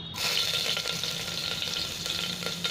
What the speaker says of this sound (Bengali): দিয়ে দিলাম দুটো কাঁচা লঙ্কা কুচি